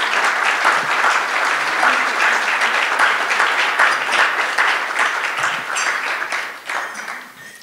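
An audience breaks into sustained, dense applause to welcome Ambassador Burns at a talk on the State Department and American diplomacy, holding steady for several seconds before tapering off.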